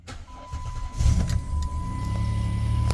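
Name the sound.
car starting and driving on road test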